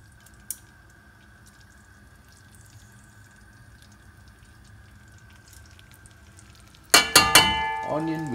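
Chopped onion hitting hot oil in a pot while cooking lamb machboos, bursting into a loud, crackling sizzle near the end after a long stretch of quiet kitchen hum.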